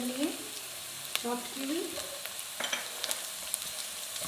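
Chopped green chillies frying in a pan with softened onion and garlic, a steady sizzle with scraping stir strokes and small pops, under a brief spoken phrase.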